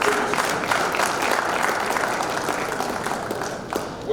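Audience applause at an annual assembly of registered quantity surveyors, a steady dense round of clapping from a hall crowd lasting a few seconds with no one speaking.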